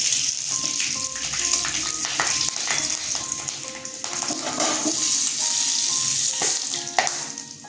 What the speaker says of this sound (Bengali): দুটো কাঁচা লঙ্কা ফোড়ন দিয়ে দিলাম